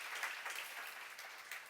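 An audience in a church lecture hall claps together in a steady, moderately distant burst of applause that fills the short moment, with no talking over it.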